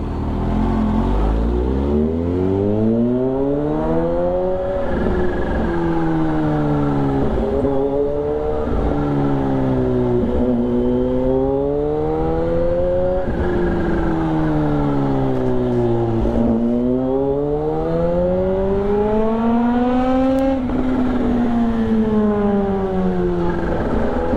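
A car crawling along in first gear, its engine whining and rising in pitch as it revs, easing off, then climbing again in repeated cycles; steady and fairly loud with no voices.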